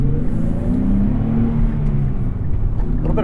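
A 2023 Nissan Z with a six-speed manual revs hard and the revs hang on briefly, a steady loud engine drone filling the whole moment with a faint whine on top and no voices.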